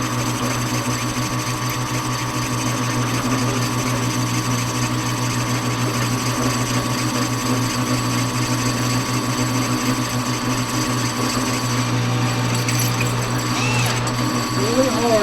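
A machine cuts a finishing curve on a pulley spacer made from a scrap part, giving a loud, steady mechanical whir and vibrating hum that continues unbroken for the whole stretch.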